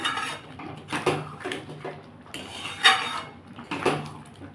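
A spoon scrapes and clinks against a metal pot while garam masala is stirred into a prawn and gati kochu curry, with several distinct close knocks and scrapes and no talk.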